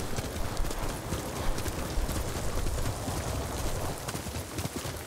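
A horse's hooves clip-clop at a steady pace during a ride in Ghost of Tsushima, under a loud, dense wash of wind and ambient game sound.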